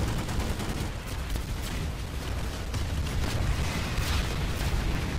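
Dense, continuous bursts of gunfire in the video game Planetside 2 crackle and boom without pause, rapid automatic shots layered over one another like a chaotic firefight.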